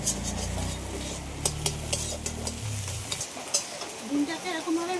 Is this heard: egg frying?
yes